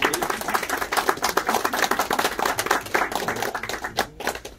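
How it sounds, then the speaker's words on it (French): Clapping from an audience at a postage stamp unveiling ceremony for the Smiley booklet, a fairly thin, uneven patter of hands that rises and falls before tapering off near the end. "Applaudir Gilles"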